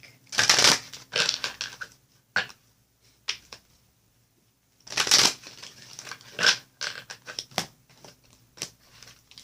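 A deck of tarot-style reading cards being shuffled close up, in two bursts of riffling and flicking separated by a pause.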